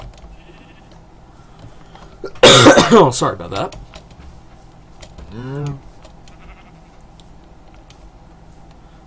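A sheep in the video game Minecraft gives a single short bleat, following a louder burst of coughing or throat noise; someone talks briefly nearby.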